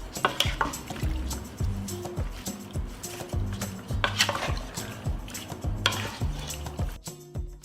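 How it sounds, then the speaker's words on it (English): A spoon stirring plums left overnight in a pot, with rhythmic scraping and clunking strokes that repeat steadily and sound close, alongside some background tonal sound. "The plums were left overnight. I will stir."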